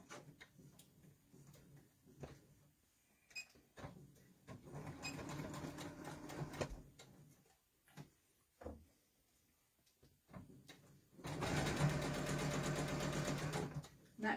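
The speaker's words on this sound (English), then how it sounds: "I just need to sew the sides together." Sewing machine stitching the sides of a waistcoat together in two separate runs, the second louder and steadier, with quiet handling knocks and fabric shuffling in the pauses and no talking.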